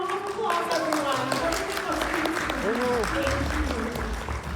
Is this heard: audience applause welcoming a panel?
yes